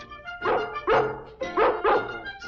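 Newborn dalmatian puppies in an animated film yipping and barking in a quick run of four or five short, close, high yelps.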